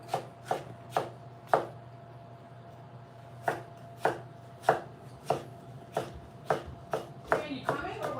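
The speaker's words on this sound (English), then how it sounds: "And we're just chopping that up." A knife chopping food on a cutting board in a home kitchen, a quiet series of crisp, evenly spaced taps in uneven bursts over a low background hum.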